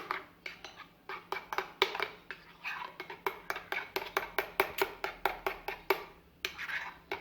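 Mayo dip being stirred with chopped green onion in a bowl, a steady run of sharp spoon-on-dish clinks and scrapes repeating roughly twice a second, close and clear with no talking.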